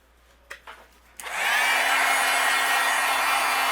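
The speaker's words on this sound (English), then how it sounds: "I'm going to use my heat gun and we'll melt this." Heat gun switched on after a few faint handling knocks, then blowing a loud, steady whine with a constant hum for melting embossing material on a handmade card.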